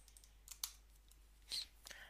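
A handful of separate computer keyboard key presses, sharp isolated clicks spaced irregularly over a quiet room background with no talking.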